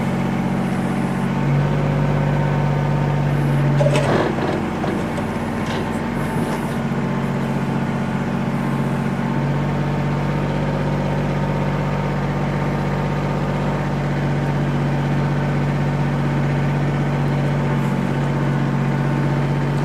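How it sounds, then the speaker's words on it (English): A 2013 Kubota L3800D diesel tractor with a BH77 backhoe idles steadily with a low, constant rumble and drone throughout, with a brief mechanical clatter near the start. "I'm just basically idling this tractor to show you that everything there works"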